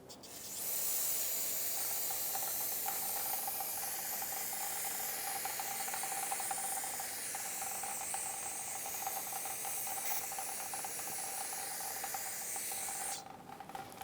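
Cleaner sprays in a long continuous hiss onto the rear wheel hub of a 2013–2018 Toyota RAV4 2.5L, close and steady for about twelve seconds before cutting off abruptly.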